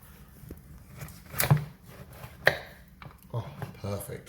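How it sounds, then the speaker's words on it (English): Knife cutting through a cooked rack of lamb on a chopping board, a few separate firm chops and thuds spaced across the moment, close and moderately loud with faint kitchen background. "Let's take one of our racks, put it on the chopping board."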